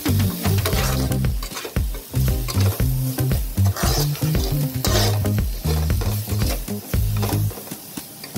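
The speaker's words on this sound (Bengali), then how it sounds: "ভালো করে নেড়ে নেব" A spatula scrapes and stirs a spiced capsicum stuffing in a frying pan, with repeated rhythmic scraping strokes over a steady sizzle, close and loud, with no voices.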